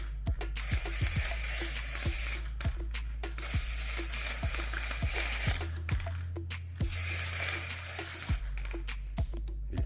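An aerosol can sprays fixative over a realistic pencil drawing in repeated hissing bursts of a second or two each, broken by short pauses and faint clicks, with no voices.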